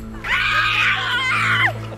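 A woman screams loudly and steadily for about two seconds while hand fishing outdoors, a sustained high-pitched cry over a low background hum.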